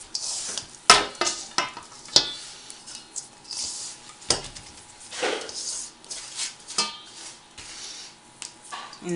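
Gingerbread house dough being mixed by hand in a bowl: close, irregular knocks, scrapes and soft squishing, with sharp clicks scattered between quieter stretches.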